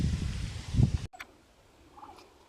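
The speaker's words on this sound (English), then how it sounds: "We've got turkeys in the background." Turkeys gobbling in an outdoor animal pen, a brief rough gobble up close amid low rumbling noise, then after a sudden cut a faint distant gobble over quiet background.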